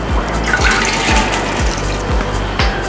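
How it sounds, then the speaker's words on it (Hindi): Meat stock (yakhni) being poured into a pot for Kabuli beef pulao, a steady splashing liquid stream with a low rhythmic glugging pulse, close and fairly loud throughout with no talk. "पहले यखनी शामिल करेंगे, फिर चावल शामिल करेंगे और फिर चूल्हा जला देंगे।"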